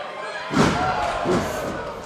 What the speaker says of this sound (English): Clubbing forearm.